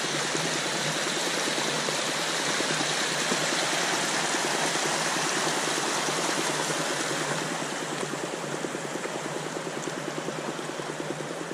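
Mountain river water rushes and splashes steadily near Baños de Panticosa and Bachimaña in the Pyrenees, a dense, even roar that holds for the whole stretch with no voices.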